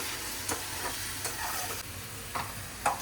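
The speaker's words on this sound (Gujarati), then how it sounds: "હવે નાખ્યા છે ટમેટાની ગ્રેવી. મસ્ત વઘાર બનીને કમ્પ્લીટ થઈ જાય." Tomato gravy sizzles steadily in a ghee tempering for rajma, a continuous close frying hiss broken by a few soft stirring scrapes, with no talking.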